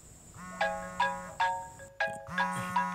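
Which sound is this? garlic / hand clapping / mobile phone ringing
mobile phone ringing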